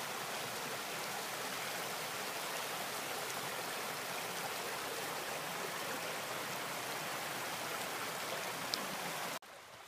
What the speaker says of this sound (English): One of the many stream crossings.